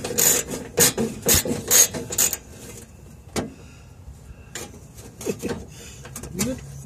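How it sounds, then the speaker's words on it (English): A wrench works loose the last bolt on a Ford LTD heater blower motor: a series of close, scraping, rasping strokes for the first couple of seconds, then sparse clicks and scrapes with quieter gaps. "So let me get this last bolt off."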